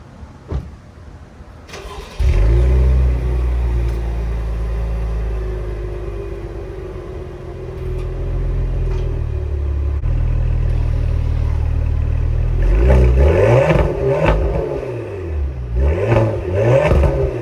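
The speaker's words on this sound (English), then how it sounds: "I'm gonna let you guys hear what that 3 liter twin turbo V6 sounds like really quick." A 2020 Cadillac CT5-V's 3-liter twin-turbo V6 cranks and fires up, settles into a deep rumble, then revs hard several times near the end, loud and close.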